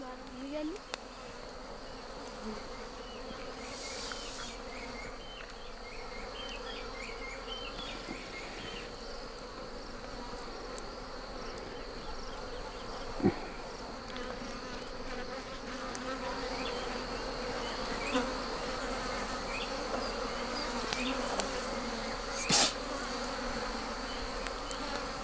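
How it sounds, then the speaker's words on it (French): Wild bees droning steadily around a nest during a traditional Ndorobo honey hunt in Kenya, a continuous buzzing swarm heard at moderate distance with faint outdoor background and no voices. "Bientôt, ce sera son tour d'affronter les abeilles sauvages."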